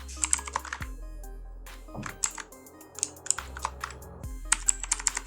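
Someone types on a computer keyboard while writing Python code, producing close, crisp key clicks in quick irregular bursts with short pauses between them and no voices.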